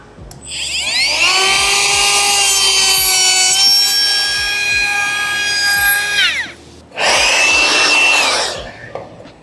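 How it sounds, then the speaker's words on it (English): A router cuts a slot into the bottom edge of a wooden pocket door, producing a loud, high whining buzz for about six seconds, then a short pause and a second, rougher pass. "Make sure my router depth is set right."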